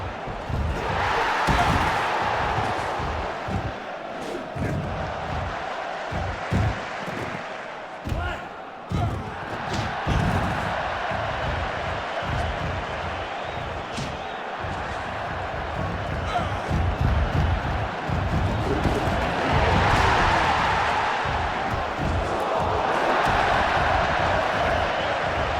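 A crowd in the wrestling video game Wrestling Empire roars steadily for the whole stretch, with repeated thuds and slams from in-ring action cutting through, under a commentator's voice.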